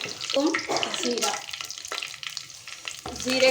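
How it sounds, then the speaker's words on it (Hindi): Cumin seeds hit hot oil for a kadhi pakora tempering, crackling and hissing in a close, busy sizzle with a few clinks of utensils, loud and continuous throughout. "जीरे का हम तड़का लगाएंगे।"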